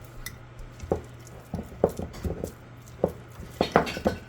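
A utensil scraping and knocking around a bowl while whole wheat sourdough is stirred and the sides scraped down: irregular clinks and scrapes, fairly close, with no talking.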